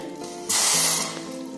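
A glass of water is poured into a tea pan on a gas stove, making a sudden loud hissing splash that lasts about half a second and then fades into a softer rush.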